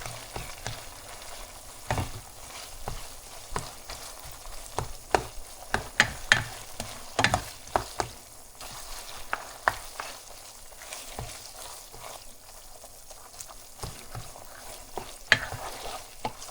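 Ground beef sizzling in a pan on the stove while a spatula breaks it up, with steady soft frying and repeated scraping taps at an irregular rhythm, close and fairly quiet.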